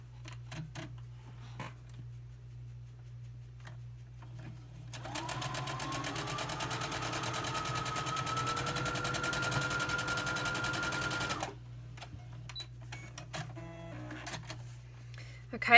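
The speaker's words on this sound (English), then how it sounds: "Then we're going to sew straight on our line." Domestic sewing machine stitching a straight seam along a drawn line on a quilt block, running steadily for about six seconds mid-clip with quiet room sounds before and after.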